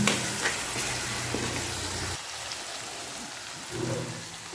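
Grated amla and garlic cloves frying in oil for a homemade hair oil, a steady broadband sizzle that drops briefly midway before resuming, with no talking.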